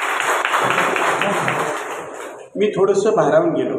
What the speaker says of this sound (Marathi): टाळ्या होऊन दे.